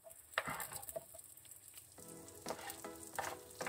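Chopped onions going into a pan of frying garlic, a close, continuous sizzle with crackling pops and some stirring, with no talk over it.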